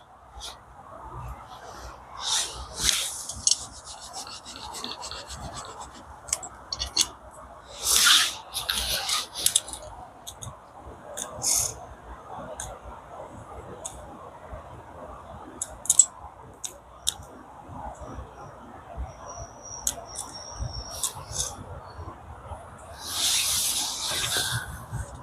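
Unoiled popcorn kernels in a hot pan at a campsite give off scattered sharp pops and brief hissing bursts at irregular intervals over a steady low background rumble.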